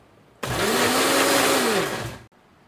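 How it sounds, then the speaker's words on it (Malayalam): A mixer grinder blends cooked tomato and onion for Mexican rice with beef birria in one loud burst of about two seconds. It whirs up abruptly, holds a steady motor whine, and cuts off sharply with no talking. "നമ്മൾ നേരെ എടുത്ത് മിക്സിയിലിട്ട് ഒരു പൂശാൻ പോവാണ്."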